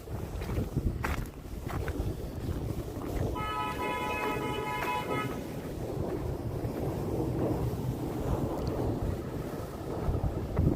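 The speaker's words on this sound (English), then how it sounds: "It's windy, but not super horrible." Steady wind rumbles and buffets the microphone throughout, a continuous low roar with gusty peaks, outdoors in Bay Ridge, Brooklyn, New York, after a winter snowstorm.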